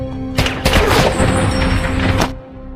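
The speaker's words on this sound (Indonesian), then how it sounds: "Suara tembakan dan bentrokan pun langsung terdengar oleh Frank dan timnya, yang segera bergegas" A burst of film-shootout gunfire: several sharp, loud shots and crashing impacts in quick succession, followed by a dense clattering stretch that cuts off abruptly.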